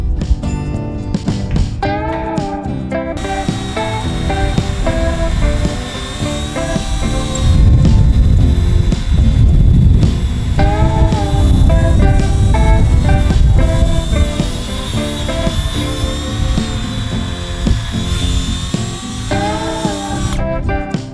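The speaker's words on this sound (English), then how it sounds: "To install the J-bolts to hang the gate, you are going to have to pre-drill the round." A power drill whines loudly and continuously as it pre-drills a 6-inch round wooden fence post for gate J-bolts, its pitch rising and falling with the load.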